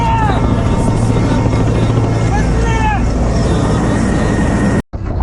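A loud, steady rotor roar dominates, with a heavy low drone and whining engine tones; voices are faintly audible beneath before an abrupt cut.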